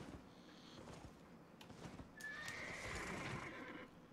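Horse from the Albion Online video game, neighing in a loud drawn-out whinny late in the clip, preceded by steady clip-clop of hooves against a low in-game ambience.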